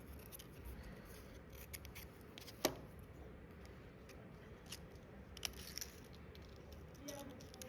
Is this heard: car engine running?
no